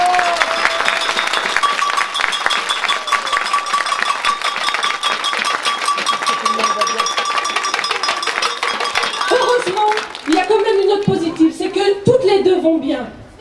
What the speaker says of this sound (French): je pense qu'on peut applaudir Monsieur Toussaint qui a fait ce déplacement pour elle